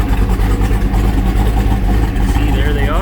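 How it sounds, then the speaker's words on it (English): A 1968 Dodge Hemi Charger R/T idles at the rear through its original exhaust system with resonators, giving a close, steady low burble with a pulsing rhythm while someone talks over it. "That's an original exhaust system with resonators."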